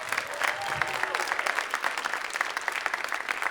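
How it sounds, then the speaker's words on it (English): Audience applause for a group of student readers at a school writers' week event, dense steady clapping from a crowd filling the whole stretch at even loudness. "One more big round of applause for our courageous group up here."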